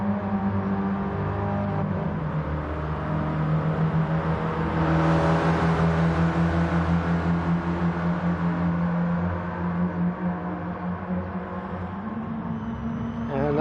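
Mini race cars accelerate hard past on a race track in a continuous, loud buzzing roar of several engines, swelling midway as they power by. A commentator talks over the engines.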